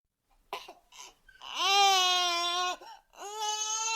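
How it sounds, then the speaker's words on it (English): A baby sound effect: a few short whimpering sobs build into two long, loud, wailing cries with a brief catch of breath between them. "Crying baby."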